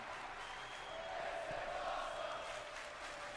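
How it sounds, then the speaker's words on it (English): Video game wrestling crowd in WWE 2K Universe Mode, a dense steady roar of fans with a chant-like swell running throughout, loud and continuous with no talk over it. "The crowd in-game loving it. This is awesome chants abound."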